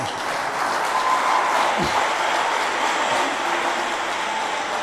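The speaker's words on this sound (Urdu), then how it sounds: "ان کے لیے آپ تالیاں بجائیے" Steady, dense applause from an audience at a live Urdu-language stage event, a continuous wash of clapping holding at an even level for the whole stretch with no voices standing out.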